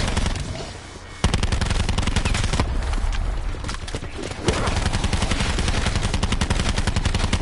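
Fast automatic gunfire rattles in long sustained bursts while shooting zombies in Alpha Omega, loud and close, with a brief break between bursts.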